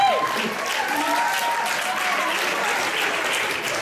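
Audience applause at a comedy show, a loud, dense wash of clapping that sets in immediately and holds steady for the full few seconds, with faint crowd voices underneath.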